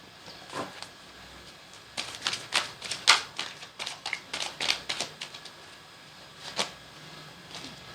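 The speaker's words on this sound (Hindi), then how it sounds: "आप लोग कार्ड शफलिंग स्किप कर सकते हैं" Tarot cards being shuffled by hand: a quiet run of crisp, uneven clicks and flutters, clustered in a busy stretch midway, then sparse single taps, with no talk.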